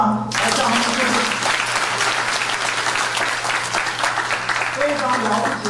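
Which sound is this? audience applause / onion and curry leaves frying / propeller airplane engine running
audience applause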